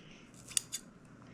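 Scissors snip onion tops twice in quick succession, two crisp close metallic cuts in an otherwise quiet garden setting.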